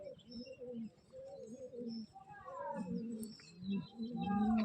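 Pigeons coo softly and repeatedly, several low rolling calls overlapping at close range against a quiet background.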